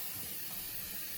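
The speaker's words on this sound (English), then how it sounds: "Gonna go ahead and go in with my L'Oreal Paris Infallible setting spray." L'Oreal Paris Infallible setting spray misted onto a face, a steady close hiss of fine spray lasting about a second with no talking.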